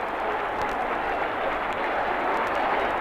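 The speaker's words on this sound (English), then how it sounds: "Everybody rises. Listen to the crowd." A packed athletics stadium crowd roars with sustained, dense cheering and applause as a runner nears the finish tape, a steady wall of noise from start to end.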